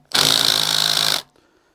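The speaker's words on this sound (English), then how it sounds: "Here is the Milwaukee 1/4 inch drive" Milwaukee 1/4 inch brushed impact driver tightens a 3/8-16 bolt in one loud, close, rapid hammering burst lasting about a second, then stops abruptly.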